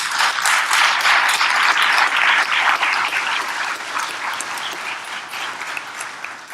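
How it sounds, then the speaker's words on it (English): Crowd at an agency awards ceremony applauds people standing for recognition, a dense, loud wash of clapping that holds steady, then slowly thins and softens toward the end. "please stand so you can get a round of applause"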